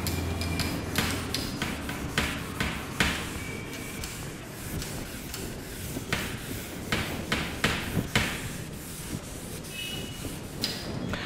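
Writing is rubbed off a board with quick repeated scrubbing strokes and light knocks, a steady rhythmic scuffing that runs throughout at close range with no speech.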